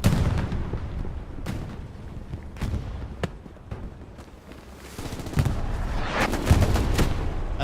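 STG-44 assault rifle fire in a World War II video game match, loud repeated gunshots and bursts with echoing booms, sustained over several seconds with no talk.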